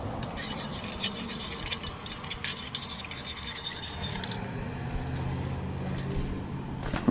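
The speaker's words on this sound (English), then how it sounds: "So let's stir this up some more." A stick stirs a liquid, producing a continuous close scraping and swishing texture at moderate level with no speech.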